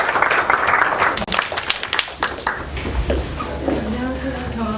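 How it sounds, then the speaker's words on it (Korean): A classroom audience of students in a lecture hall breaks into a short burst of clapping, mixed with voices, then fades as a speaker begins talking. "박수 한번 쳐주시고"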